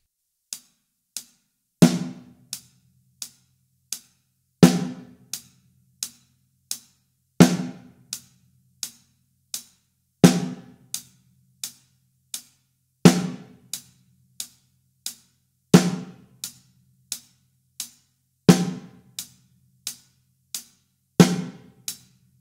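Beginner drum beat on a kit: steady eighth-note hi-hat ticks with a snare cracking on beats two and four, played alone at an even moderate tempo with no kick drum.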